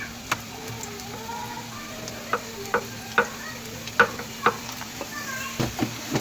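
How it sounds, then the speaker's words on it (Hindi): Aloo samosas fry in a little oil in a pan with a low steady sizzle, broken by scattered sharp ticks and pops of turning and stirring, close up with no talking. "आप इस तरह कम ऑयल में भी समोसे फ्राई कर सकते हैं।"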